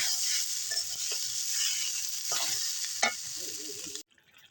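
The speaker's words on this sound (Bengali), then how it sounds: "আগে আলু দিয়ে ভাজতে নিচ্ছি, আর বেগুন যখন কষাইতেছি আলুর সাথে।" Potatoes and eggplant fry in a hot pan while being stirred, a dense continuous sizzle with scraping strokes that stops abruptly just before the end.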